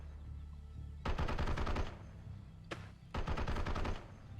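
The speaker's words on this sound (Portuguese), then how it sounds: "A metralhadora tá atacando" A machine gun fires in the World War II strategy game Steel Division: Normandy 44, with a long rattling burst, a brief single crack, then a second sustained burst, all loud and close.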